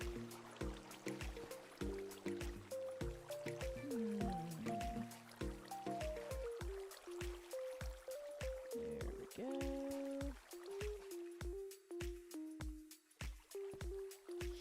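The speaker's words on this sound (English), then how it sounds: "Here's more water source blocks." Video game water flowing from placed water source blocks: a continuous liquid gurgle with dripping and splashing, accompanied by steady rhythmic tonal clicks and notes throughout.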